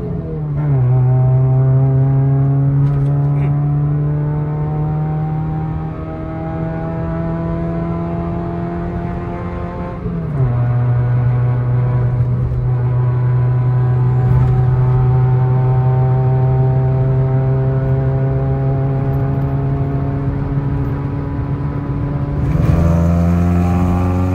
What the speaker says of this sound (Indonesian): Jadi ini kita mau ASMR buat hasil knalpotnya.